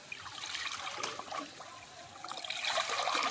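Water dripping and trickling off freshly washed flowers, a close, uneven patter that swells and fades over a few seconds.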